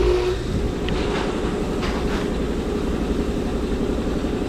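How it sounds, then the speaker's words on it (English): Continuous loud mechanical rattle and hum of an air compressor running during a Nissan Altima driver door latch repair, steady throughout with no talk. "Sorry for the noise, that's a compressor running."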